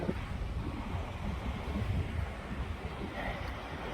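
Rough sea washing ashore, a continuous broad rush of surf mixed with wind buffeting the microphone, moderately faint and steady throughout.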